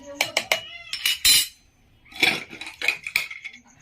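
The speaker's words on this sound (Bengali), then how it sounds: "ভালো করে মিশিয়ে" Spoon scraping and clinking against a pan while mixing egg tarka with Kashmiri chilli powder, a string of sharp metallic clinks and short scrapes close by, with brief gaps in between.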